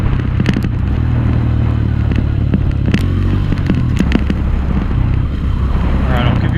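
Honda CRF125F motorcycle engine running nearby, a steady deep loud rumble that stays constant throughout, with wind buffeting the microphone and some crackle on top.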